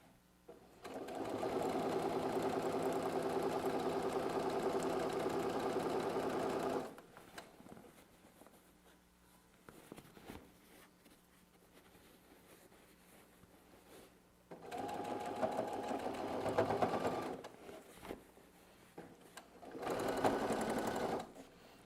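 A sewing machine stitching the front of a fabric bag, running in steady buzzing bursts of several seconds separated by quiet pauses, close and clear with no talk.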